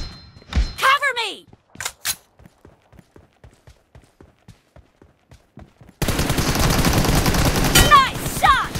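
Video game gunfire from a sniper-style match: a few sharp shots near the start, then a long run of rapid, evenly spaced rounds, ending in a dense burst of shooting with game announcer audio layered over it.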